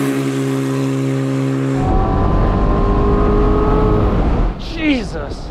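A Chevrolet Corvette C7 Z06 engine on a track, heard first as a steady high drone, then as a loud roaring surge under acceleration, with shifting revs and brief tire squeal near the end.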